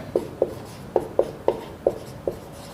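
Chalk writes a line of text on a board during a lecture, seven short, crisp taps and strokes spaced unevenly across a few seconds, close and clear with no talking.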